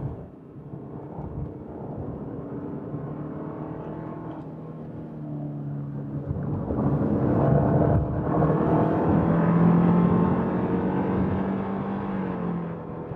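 Subaru Outback 2.5i-S with a Lineartronic CVT, held in manual mode and downshifted through paddles, its engine revving hard toward 6000 rpm; a steady, loud in-cabin drone that climbs after a shift and holds high without talk.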